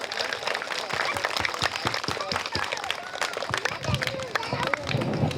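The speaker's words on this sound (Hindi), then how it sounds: "जोर से तालियां बजाएं।" Dense applause from a school function audience, many hands clapping continuously and loudly for several seconds, with faint crowd murmur mixed in.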